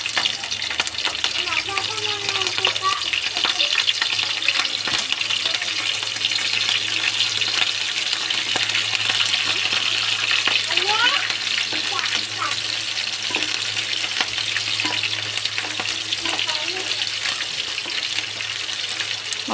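Chopped onion and green chilies sizzling in a pan while cooking bitter gourd, with a steady frying hiss, occasional stirring scrapes and faint background hum, no talking.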